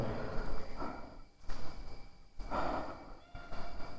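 A cat meowing at close range in a quiet old villa on the slopes of Mount Bromo, giving several drawn-out mews in irregular succession with short pauses between them.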